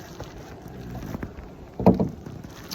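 A restored DIY canoe is double-paddled on open water, with soft splashing strokes and light wind noise, and one louder paddle splash near the end.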